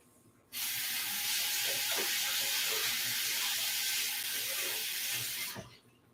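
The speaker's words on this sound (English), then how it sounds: "Just washing off a bit of kale that had some dirt on it." Kale being rinsed under a running kitchen tap: a steady, close rush of water starts abruptly, holds evenly for about five seconds with faint splashes, then cuts off.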